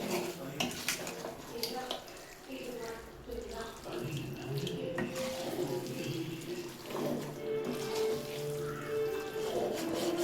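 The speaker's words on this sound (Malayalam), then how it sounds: "കുറച്ച് വെള്ളം വീത്തി കൊടുത്ത്" Water is poured into a chicken curry cooking in a pan, giving a continuous close splashing, running sound for several seconds mixed with light clatter of utensils.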